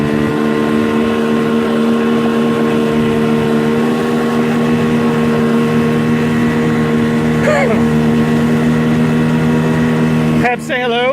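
An 8-horsepower boat outboard motor pushes against a strong current on Buffalo Bayou, a steady close droning hum that runs throughout, with a brief clatter of other sounds near the end.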